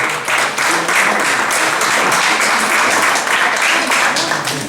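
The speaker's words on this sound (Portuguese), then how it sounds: "Pode aplaudir mesmo ao Senhor." Congregation applauding in a church service, steady dense clapping filling the space from start to end, loud and continuous with no speech over it.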